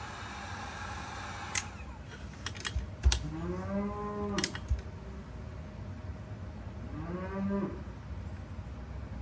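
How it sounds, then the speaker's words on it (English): Cows moo twice, each a long, drawn-out low call, the second coming several seconds after the first. A few sharp clicks and taps come before them over a quiet background. "Probably didn't feed the cows."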